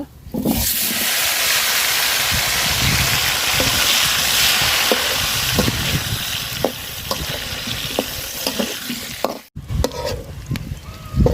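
Potatoes frying in hot oil give a loud, steady sizzle close by, broken by scraping and stirring knocks, then a brief pause before clattering spoon movements near the end.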